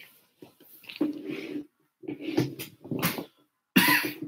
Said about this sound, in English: I got a little cough too, so it's not helping anything out.